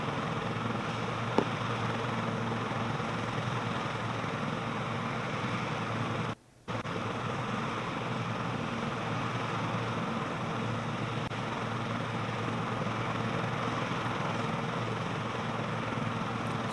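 A helicopter sitting on a highway with its engine running before takeoff, a loud, steady broadband roar that holds almost unchanged throughout, broken only by one brief dropout.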